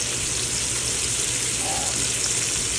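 Steady broadband whooshing of an over-the-range microwave vent fan running continuously above a skillet, with faint sizzling underneath.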